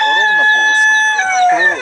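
A heavy rooster crowing at a poultry breed show, one long, loud, close call filling the whole stretch.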